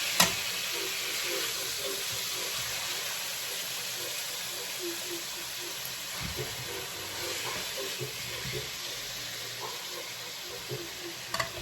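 About three pounds of thinly sliced beef stir frying in a pan for pepper steak: a steady, close sizzle and hiss with occasional scraping stirs and soft clicks throughout, no talking.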